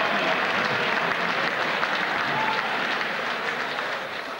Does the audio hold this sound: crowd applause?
yes